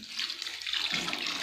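Water pours from a bowl into a pot of fried spiced potatoes and rice, making a steady, close splashing rush that fills the short moment.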